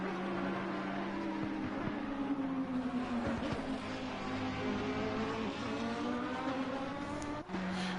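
An Aston Martin race car engine in Assetto Corsa Competizione drones steadily at high revs, its pitch rising and falling as it shifts through gears, loud and sustained.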